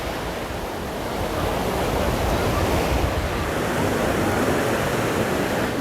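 Sea waves at Ras El Bar beach, a steady broad wash of surf with some wind noise on the microphone, continuous and fairly loud with no voices.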